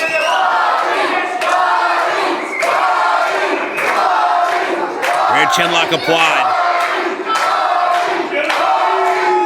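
Loud indie wrestling crowd chanting and cheering in a continuous roar during a singles match, with a commentator speaking over the noise.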